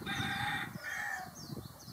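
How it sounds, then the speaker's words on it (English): A rooster crows loudly and close, a long drawn-out cock-a-doodle-doo followed by a second crow, with faint clucking underneath. "Even roosters are saying goodbye."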